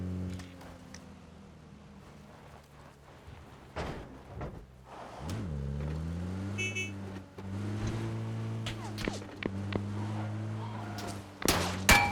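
A car engine in PUBG hums steadily at low volume, rising and falling with throttle over about twelve seconds, with occasional clanks and knocks from the vehicle.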